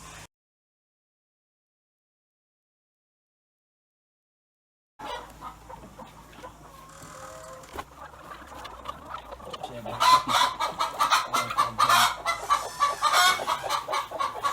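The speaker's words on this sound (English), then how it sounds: "So there we go, we have some chickens now." After a few seconds of silence, several chickens cluck and squawk close by in a pen, growing busier and louder toward the end.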